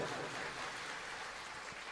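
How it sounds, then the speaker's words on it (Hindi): An audience at a devotional bhajan gathering at Gurukripa Ashram in Netda, Jodhpur claps for the musicians in a steady, dense wash of applause lasting about two seconds. "एक बार हमारे संगीत कलाकारों के लिए जोरदार ताड़ियां बजा दीजिए।"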